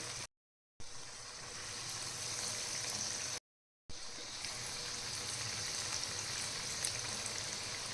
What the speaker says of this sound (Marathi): आता आपण इथे तळून घेऊया ते तेल तापलेले सावकाश सोडायचे